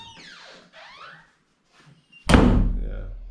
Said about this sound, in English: I just recently installed this door closer here